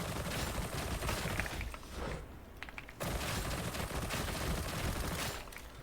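Rapid automatic gunfire from a Shredder Autopistol in the game Darktide, aimed at a Chaos Spawn: continuous loud bursts with a brief break near the middle, then more sustained firing, close and dense, with no talk.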